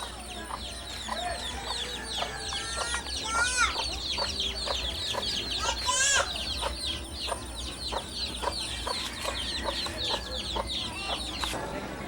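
Chickens cluck in short, repeated bursts at moderate distance, with sharper squawks mixed in, fairly quiet against a low background hum.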